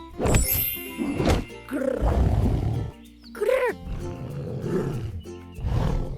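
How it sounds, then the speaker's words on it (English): A tiger roars loudly and close in a wild-animal sound sequence, several deep growling roars with short pauses between them, standing alone without talk. "This is a tiger."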